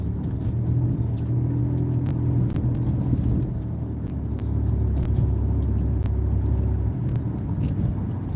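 A car passes in the lane to the left during an ordinary road drive, heard as a continuous low rumble of tyres and engine over steady cabin noise, with no talking and a few faint clicks.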